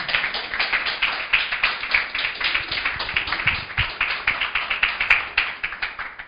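Church congregation clapping in a fast, steady rhythm, many hands striking together loudly and continuously with no voices over it.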